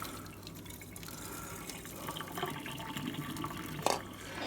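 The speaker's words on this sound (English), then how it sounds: "and pour out the boiling water." Boiling water from a pot is poured into a kitchen sink, a soft, steady splashing stream that grows a bit louder near the end.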